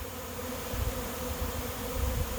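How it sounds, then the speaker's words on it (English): A honey bee swarm arrives at a swarm trap outdoors, a dense, steady buzzing hum of many insects that swells and fades slightly as they fly near, with no talk. "So I knew a swarm was arriving."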